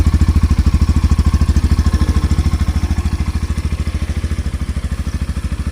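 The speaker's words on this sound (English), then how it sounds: "this is the smooth engine sound of Yamaha 2021 model version 3" A 2021 Yamaha FZ S version 3 motorcycle engine idles close by, with a steady, rapid, even thumping pulse that runs smoothly throughout and never changes pace.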